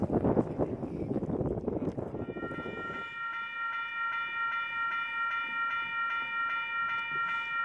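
A train passing through Wondabyne station, with a loud rumble of wheels and carriages in the first few seconds, then a long sustained tonal horn over fading rail noise.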